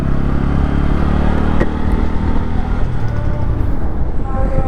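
A motorcycle with its exhaust removed runs close by with a loud, steady engine drone that holds throughout, its tone shifting slightly toward the end.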